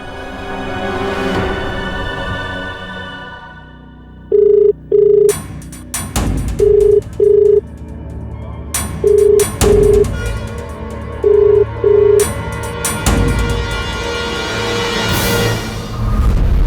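A phone ringing in repeated paired electronic tones with pauses between, loud and close, with some background noise and rustling around the rings.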